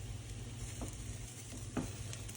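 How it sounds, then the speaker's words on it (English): Chopped onions hit a hot pan for scalloped potatoes and sizzle steadily, with a low hum underneath and a couple of brief scraping stirs. "So we'll just plop all these onions in"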